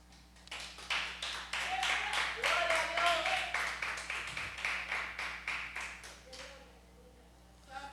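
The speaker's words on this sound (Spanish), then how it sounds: "Dale un aplauso al Señor Jesús" Congregation applauding during an evangelical church service at Iglesia Favor Divino, a steady crowd of claps sustained for several seconds, with voices and shouts mixed in before it tapers off near the end.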